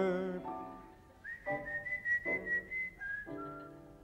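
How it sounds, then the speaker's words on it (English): A man whistles a tune alone in short melodic phrases, each held note clear and fairly close, with brief pauses between phrases. "My whistle's getting dry."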